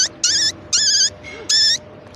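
A man mimics a rat with his voice, giving three close, squeaky, nasal calls in an even rhythm, each about a quarter-second long, with short pauses between them.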